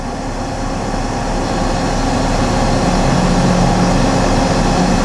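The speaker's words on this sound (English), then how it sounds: "So the X-axis is the pallet, moves the pallet left to right." A 1995 Leblond Makino MC86 4-axis CNC horizontal machining center drives its pallet along the X-axis, giving a steady loud mechanical hum and whine with a rising tone that holds throughout.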